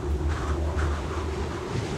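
Gusty wind in the Kholat video game blows steadily in a continuous, fairly loud low roar with slight surges, heard alone.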